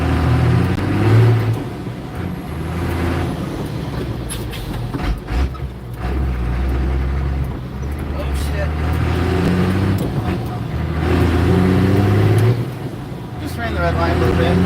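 A 1986 Ford CF7000 truck engine drones and revs steadily while driving, loud and close throughout with rising and falling low rumble, under occasional talk.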